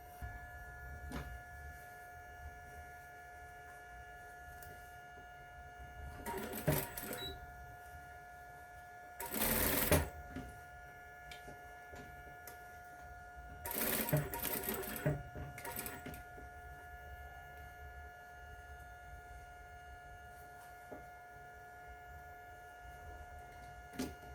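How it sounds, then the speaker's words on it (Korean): A sewing machine runs a 1 cm seam on a fabric bag, stitching in three short whirring bursts separated by pauses over a steady low room hum, close by and with no talking. "박음질 1cm로 반대쪽도 시접 1cm로 박음질 쭉 연결해서 진행해 볼게요"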